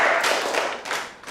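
Students in a classroom clapping, a short burst of close, sharp hand claps that thins out into a few scattered slaps.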